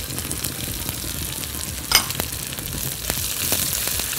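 Garlic drops into a hot pan with coriander and cumin and fries, a dense steady sizzle with a sudden louder crackle as it lands, then scattered stirring clicks, close up with no talking.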